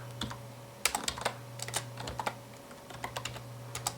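Quick, irregular keystrokes on a computer keyboard with an AZERTY layout come in short bursts over a low steady hum, close but quiet.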